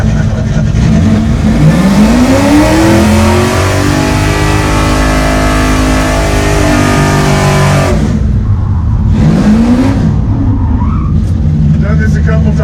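A blown 1970 Dodge Charger R/T engine roars loud and close during a burnout, revving up and holding a heavy sustained drone with rising pitch sweeps, while people talk over it.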